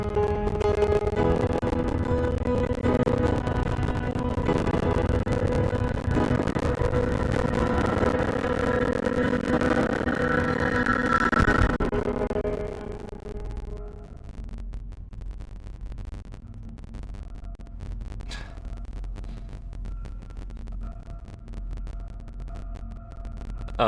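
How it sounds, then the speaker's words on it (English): The horror video game Signalis plays a dense, distorted droning rumble with clattering texture for about twelve seconds, then it drops abruptly to a thinner, quieter hiss with faint tones. "That's both of these games that have utilized a bunch of audio distortion for a sequence."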